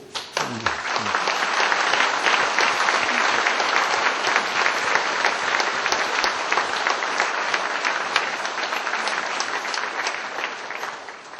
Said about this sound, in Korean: 우선 박수를 좀 칩시다, 박수.